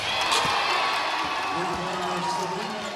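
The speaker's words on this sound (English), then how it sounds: "listen to the crowd in LA" Crowd cheering fills a Los Angeles arena during a WNBA basketball game between the Sparks and the New York Liberty, a loud sustained roar with whoops throughout, while a commentator's voice runs over it.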